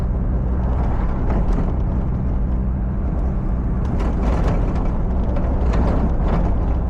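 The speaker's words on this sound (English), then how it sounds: "car is struggling along because it's super lean in these areas" A Mazda NA Miata engine struggling while running lean, a steady loud drone with rough, uneven surges throughout, heard from inside the moving car with no talking.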